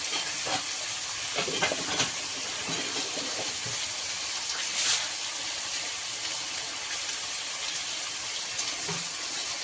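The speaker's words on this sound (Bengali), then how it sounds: "নুন হলুদ দিয়ে আলুটা লাল লাল করে ভাজবো" Potatoes sizzle in hot oil with salt and turmeric, a constant loud frying hiss dotted with a few soft utensil taps and scrapes, with no voices over it.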